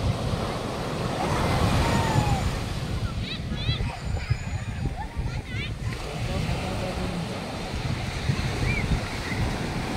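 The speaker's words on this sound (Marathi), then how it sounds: "कसे बघा समुद्राचे लाटा येतात, एकावर एक लाटा येत असत." Sea waves roll onto the shore at Vengurla harbour in Sindhudurg, a continuous loud surf roar mixed with wind buffeting the microphone, while people talk nearby.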